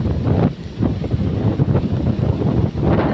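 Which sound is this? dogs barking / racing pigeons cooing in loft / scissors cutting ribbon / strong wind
strong wind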